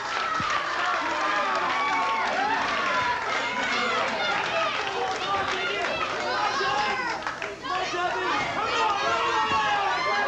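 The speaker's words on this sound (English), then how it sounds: "Crowd spurring him on. Great crowd here today." A large wrestling arena crowd at a 1984 CWA televised show chatters and cheers steadily throughout, a dense roar of many voices, with a commentator talking over it.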